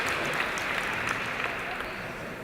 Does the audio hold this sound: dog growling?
no